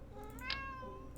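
A cat gives a single short meow close by, heard over steady low background noise.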